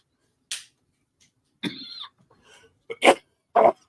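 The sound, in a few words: cough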